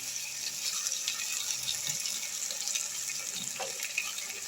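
Water trickles and splashes steadily into a pan of cooking Malabar spinach (pui shaag) for a traditional Bengali chorchori, a soft running pour with a few faint clinks, no talking.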